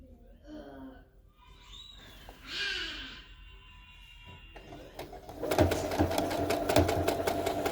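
A sewing machine stitches a lining onto a crochet tutu top, running in a steady, fast, close stitching rattle through the second half after quieter handling sounds and a brief breath.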